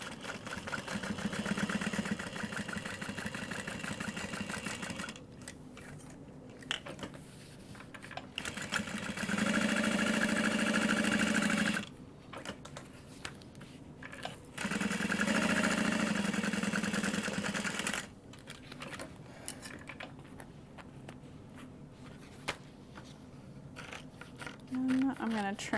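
A sewing machine stitches a tote bag in three bursts of steady mechanical whirring, each a few seconds long, separated by quieter pauses with light handling noises, close by.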